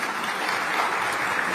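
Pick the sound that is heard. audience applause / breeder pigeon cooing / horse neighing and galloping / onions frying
audience applause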